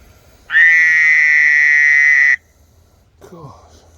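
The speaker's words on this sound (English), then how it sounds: "another frog over there making all kind of noise." A frog at night gives one loud, steady, buzzing trill of about two seconds close by, followed by a brief voice.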